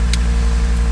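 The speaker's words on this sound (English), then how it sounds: "I do have an aftermarket exhaust on this vehicle, so I wanted to roll the windows down so you guys can hear how it sounds when I drive" A 2023 Audi RS3 with an aftermarket exhaust drives along with the windows down, its engine giving a steady, loud, low drone throughout.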